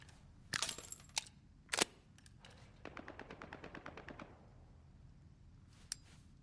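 SVD M2 rifle fire in a video game: a few sharp, loud cracks at the start, then a quick rapid string of lighter clicking shots and one last crack near the end, against a quiet background.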